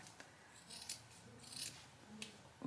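Scissors snip through pot holder fabric in a few quiet, close crisp cuts with soft rustling in between, faint and alone.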